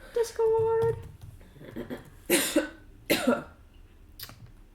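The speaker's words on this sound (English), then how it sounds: "It's a cough." A person coughs several times in sharp, separate bursts during a tabletop role-playing game session, with a brief tonal sound and background chatter nearby between the coughs.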